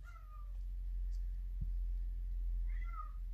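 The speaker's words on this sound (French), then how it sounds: "Oh Gizmo, oui je t'aime mon chat." A cat meows twice, once at the start and again near the end, fairly faint over a low steady hum.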